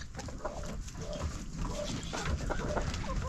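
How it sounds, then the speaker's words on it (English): Chickens cluck on a mountain homestead farm amid general barnyard noise, with scattered short calls over a steady, moderately loud background. "Mama chickens."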